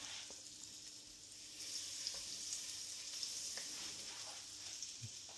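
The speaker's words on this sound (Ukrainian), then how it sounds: "беремо так нормально масло, кому мені подобається. Я беру стільки. Кидаємо." Oil fries in a pan with a soft, steady sizzle close by. A few faint clinks and stirring sounds come through the hiss.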